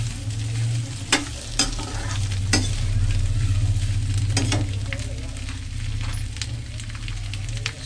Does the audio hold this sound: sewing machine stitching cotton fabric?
no